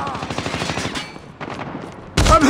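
Call of Duty gunfire rattles in rapid automatic bursts, steady at first and then thinning out before a sudden loud, close burst at the end.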